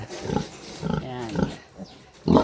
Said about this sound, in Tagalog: May mga baboy pa rin po akong alaga.